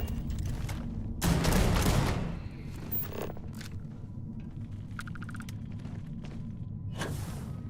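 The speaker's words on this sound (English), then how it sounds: "Weird gunfire." Gunfire in the space video game Starfield near a cave entrance: a loud, dense volley of shots lasting about a second, then scattered sharper bursts and cracks over a steady low rumble.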